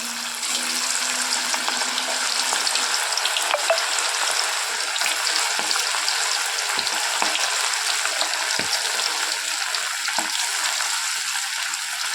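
Chicken kababs deep frying in hot oil, a loud, dense, continuous sizzle and bubbling, close up, with a few small clinks of pieces going in.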